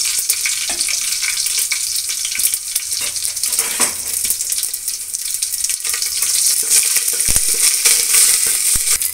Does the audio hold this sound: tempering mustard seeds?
yes